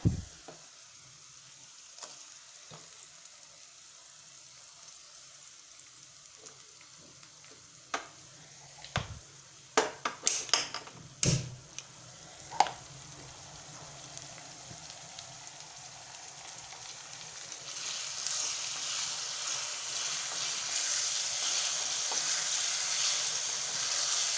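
Vegetables fry in a pan for Bhogi bhaji; a spoon clatters in a quick burst of scrapes and knocks, then chopped tomato goes in and the sizzle swells into a steady hiss.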